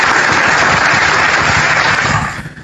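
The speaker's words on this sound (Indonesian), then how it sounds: "Tepuk tangan buat narasumber kita." Audience applause for two guest speakers at a live talk show debate, dense steady clapping that holds for over two seconds before thinning out at the end.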